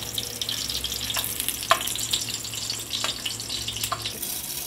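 Onion frying in a pot as the base for a Mexican rice soup, a steady broadband sizzle with a few brief clicks and stirring taps, close and moderately loud, no talking.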